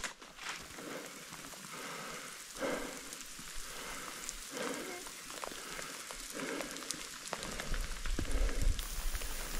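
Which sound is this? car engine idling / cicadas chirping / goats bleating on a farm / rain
rain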